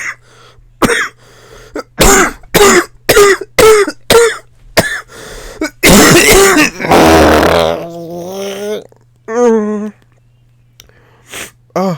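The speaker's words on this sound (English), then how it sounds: "I can't laugh because it makes me cough. And it's like really bad right now." A person's coughing fit: a run of sharp, close coughs in quick bursts, then a longer harsh throat clearing and a few strained, wheezy breaths, loud and dry against a quiet room.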